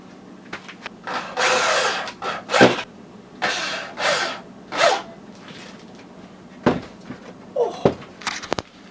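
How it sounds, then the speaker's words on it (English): Drill boring angled pocket holes in wood with a Kreg jig, heard as several short separate bursts of drilling spread unevenly through the stretch, moderately loud and close, with small knocks between them and no talk. "because I used this Kreg jig thing and did these angled holes"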